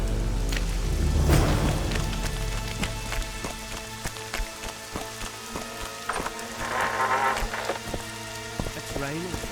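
Rain falling in the video game The Witcher 2, a steady patter of drops on surfaces mixed with hoof-like clip-clops and a low rumbling music bed.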